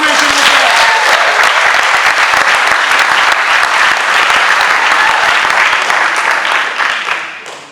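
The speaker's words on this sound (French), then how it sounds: "Applaudissez pour lui, s'il vous plaît." Loud, sustained applause from a crowd at a wedding ceremony in a town hall, dense clapping throughout that fades slightly at the end.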